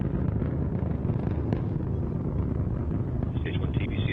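Antares rocket engines at full thrust during ascent, a dense, steady roar heard from a distance, broad and unbroken for the whole stretch, with faint background chatter.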